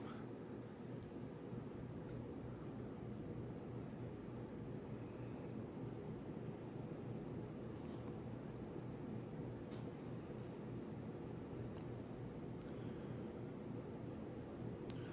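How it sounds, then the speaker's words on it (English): A Litex Signet Deluxe 52-inch ceiling fan running on high speed gives a steady, even whooshing rumble of moving air that holds constant throughout, soft and unbroken, with a few faint ticks. "High speed here, we're cruising at around 200 RPM"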